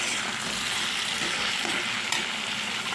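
Pumpkin pieces fry in a pan with a dense, even sizzle that holds steady throughout, close and fairly loud, with a faint stirring scrape.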